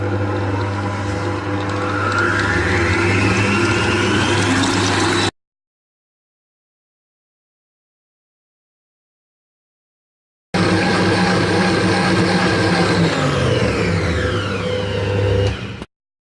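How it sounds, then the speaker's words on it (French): An electric mixer beats six eggs with sugar at high speed, a loud, close, steady whirring drone with shifting pitch; it drops out completely for several seconds, then resumes at full strength before stopping. "Et je vais battre à vitesse forte."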